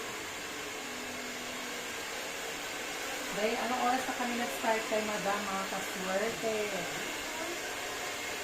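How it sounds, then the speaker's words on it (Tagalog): A hair dryer blow-dries a woman's hair during a hair rebonding treatment, a loud steady whooshing drone throughout, with a person talking over it in the second half. "Ngayon ay nag-blower na po tayo."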